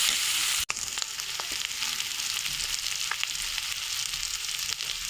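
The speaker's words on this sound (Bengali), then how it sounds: "এখন এই মশলাটা একটু ভাজা ভাজা করে নেব" Ground spices with coriander, turmeric and salt frying in oil in a pan for ghugni, a steady close sizzle running throughout with light stirring scrapes and one brief break near the start.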